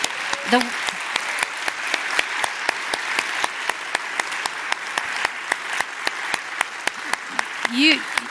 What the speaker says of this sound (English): So can we give a huge applause for this group